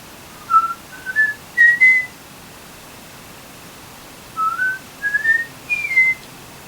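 A person whistles two short melodic phrases of rising notes from a pop song, separated by a pause, over quiet background hiss.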